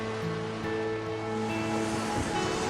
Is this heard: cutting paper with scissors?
no